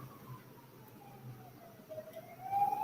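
A faint, distant siren wailing with slowly sweeping pitch, growing gradually louder toward the end as it draws closer.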